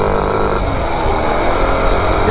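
A mini ATV fitted with a Predator 212 engine and racing slicks runs steadily and loudly close by, a continuous buzzing drone with no talk over it.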